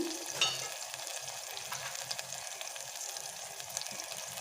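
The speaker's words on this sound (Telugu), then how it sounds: "ఈ టమాటా ముక్కలు ఫ్రై అవుతూ ఉన్నాయండి" Tomato pieces fry in a pan for a chicken curry, making a soft continuous hiss with light crackles, fairly quiet and steady throughout with no voices.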